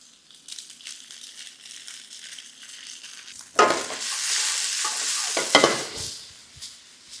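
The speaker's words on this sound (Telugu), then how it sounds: "ఇలా కూరగాయలని లైట్గా వేయించుకుంటే సరిపోతుంది." Boiled noodles tossed with cabbage and capsicum in a hot pan for street-style Indo-Chinese egg noodles, a quiet sizzle at first, then louder bursts of stirring, scraping and sizzling from about halfway, with no talk.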